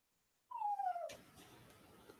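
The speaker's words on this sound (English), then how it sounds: "Shut up, little dog." A small dog lets out a single drawn-out whine that slides downward, close and fairly loud, followed by quieter shuffling background noise.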